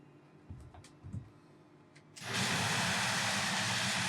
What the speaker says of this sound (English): reasonably good engine sounds, and it looks pretty okay